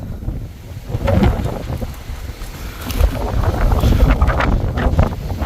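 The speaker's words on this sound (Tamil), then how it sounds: "அவ்வளோ காற்றடிச்சிக்கிட்டு இருக்கு இந்த இடத்துல" Strong wind on a hilltop peak buffets the microphone in loud, rumbling gusts that rise and fall.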